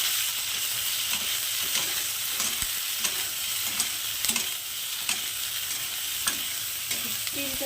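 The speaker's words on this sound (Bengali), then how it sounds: "এবার এটাকে আমি একটু ভালো করে ভেজে নেব।" A semolina mixture with salt and chili powder fries in a pan with a continuous, close sizzle, broken by light, regular clicks and scrapes from stirring.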